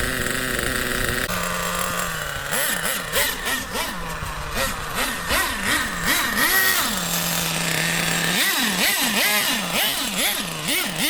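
A Schumacher Nitro .28 RC car's small nitro engine revs repeatedly, sharp rising and falling whines in quick bursts between steadier idling stretches, loud and close throughout.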